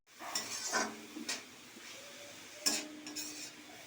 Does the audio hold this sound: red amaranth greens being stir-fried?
yes